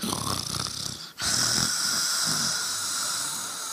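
A person imitates the snoring of someone in deep sleep: loud, rasping snore breaths, a short pause, then a long drawn-out snore that fades slowly.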